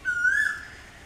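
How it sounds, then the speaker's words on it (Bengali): A cuckoo gives a single clear whistled call that slides upward and then holds, fairly near and standing out alone over a quiet outdoor background while greens are being cooked. "কত সুন্দর কোকিলের ডাক"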